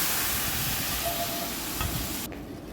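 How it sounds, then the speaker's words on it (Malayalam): Mustard seeds fried in oil and poured into a thick tamarind ginger curry, producing a loud, close, continuous hissing sizzle that cuts off sharply near the end. "ശരിയായി കഴിഞ്ഞാൽ കടുക് വറുത്ത് ഇതിലേക്ക് ഒഴിക്കുകയാണ്."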